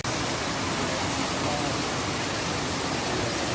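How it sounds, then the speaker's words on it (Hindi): Steady, dense rush of falling water, loud and continuous from a nearby waterfall in Sintra, Portugal, with no voices standing out. "ये झरना है भाई।"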